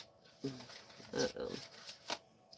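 Soft papery riffling and flicking of cards in a few short bursts, close and quiet.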